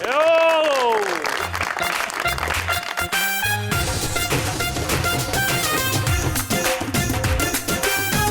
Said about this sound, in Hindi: प्लीज आपकी भरपूर तालियों में सुपर ओवर को ज्वाइन करने आ रहे हैं यावर हुसैन बुखारी।